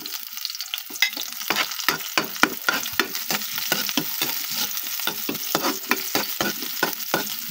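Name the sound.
garlic and onion frying in pan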